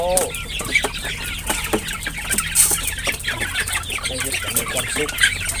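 Chickens clucking during morning feeding, a busy chorus of close clucks and fowl calls with a faint crow, steady throughout.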